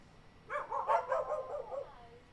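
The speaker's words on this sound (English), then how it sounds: "now I'm being attacked by dogs" Dogs bark and yip in a short, faint burst of several quick calls lasting about a second and a half, with no talk.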